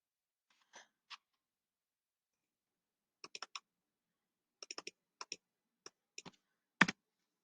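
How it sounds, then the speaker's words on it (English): Data values being typed on a computer keyboard, heard as sparse, close key clicks in short clusters with pauses between them, ending on a slightly louder tap; quiet background and no talk. "Then you can type the Y's in."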